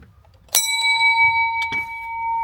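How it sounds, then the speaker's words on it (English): A bell mounted on a campervan rings out in one clear struck stroke, its bright tone hanging and ringing on steadily with a couple of faint knocks after, close by and loud. "Ring the bell."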